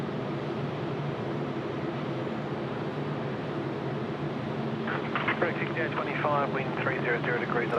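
A Saab 340 turboprop on final approach to runway 34 left at Sydney Airport gives a steady, loud engine drone throughout, with radio-style speech cutting in over it in the second half.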